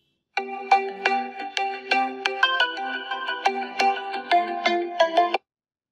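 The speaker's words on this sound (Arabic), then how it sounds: "انا خليت التليفون بتاعي يصدر صوت" A smartphone plays a ringtone remotely so it can be located: a bright electronic melody of quick repeated beeping notes, clear and close, starting suddenly and stopping after about five seconds, with nothing else heard.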